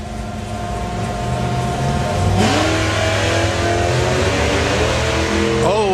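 Drag racing doorslammers, including a Ford Mustang, roar loudly at close range, engines building up and then revving hard as they launch, with rising and falling engine notes.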